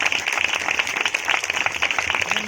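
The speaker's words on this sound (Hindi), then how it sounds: "अब जोरदार ताली बजाबो" Audience clapping at a family birthday celebration, a steady dense patter of many hands that continues for the whole stretch at moderate loudness.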